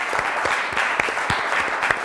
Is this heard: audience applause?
yes